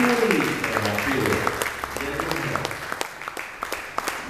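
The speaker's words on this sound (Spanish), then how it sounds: "yo quiero que le demos un fuerte aplauso a este grupo tan creativo" An audience at a church gathering gives a group a round of applause. Scattered claps gather under a speaking voice and then continue as crisp, uneven clapping.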